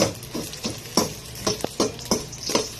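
Ginger and garlic sautéing in a pan, a soft sizzle broken by regular scraping stir strokes about every half second, close and moderately loud, without speech.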